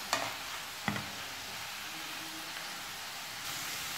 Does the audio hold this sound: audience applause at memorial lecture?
no